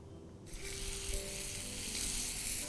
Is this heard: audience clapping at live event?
no